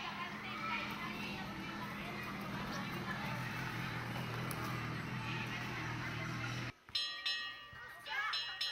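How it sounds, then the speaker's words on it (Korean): A school bell rings to start class at a small elementary school in a rural fishing village in the Philippines, sounding loudly near the end after a long stretch of children playing and chattering. "종소리가 수업 시작을 알린다."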